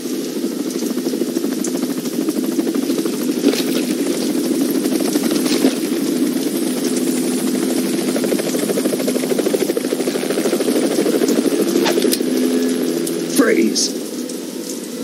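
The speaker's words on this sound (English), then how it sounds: "You will be on the helicopter out of here now." A helicopter engine in Metal Gear Solid 2 drones steadily and loudly with a low throbbing rotor beat throughout, while voices speak over it.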